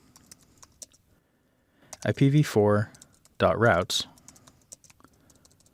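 A command is typed on a computer keyboard at a Linux terminal, heard as faint, quick clicking before and after someone speaks.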